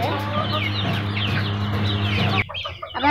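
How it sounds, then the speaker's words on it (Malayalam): Native country chickens on a farm cluck and chatter in a close, busy flock over a steady low hum, then a brief louder squawk near the end. "ഇതാണ് പിന്നെ നാടൻ കോഴികൾ."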